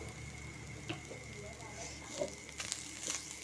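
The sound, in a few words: grated coconut sautéing in ghee in a kadhai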